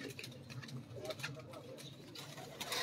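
Pigeons in a loft, faint soft coos and rustling heard from a distance, with a few brief chirps and quiet background murmur.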